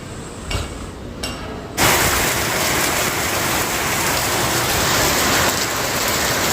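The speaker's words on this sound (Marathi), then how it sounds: "खूप जोराचा पाऊस आला आहे" Heavy rain suddenly pours down as a loud, steady roar after a few sharp knocks, continuing unbroken with no voices.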